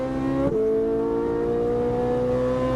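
A track car engine drones steadily, its pitch dropping sharply at an upshift and then climbing again as it pulls, loud and close from inside.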